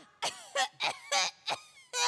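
Six sharp coughs in a row from incense smoke, close and fairly loud, with short pauses between them and no talking.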